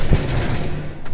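A single shotgun blast fires in a first-person shooter match, a short loud thump near the start that fades into a busy game background with no talking.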